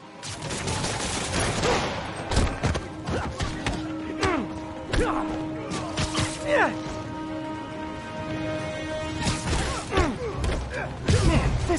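Gunfire in the Spider-Man Remastered video game, with repeated sharp shots and bursts scattered across a busy game mix, under character voices and music.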